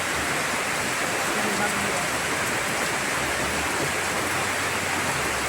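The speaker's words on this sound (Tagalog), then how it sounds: "Nabutan kami ng ulan dito. Lakas ng ulan." Heavy rain pours down outdoors in a steady, dense hiss of drops, constant and loud, with faint voices underneath.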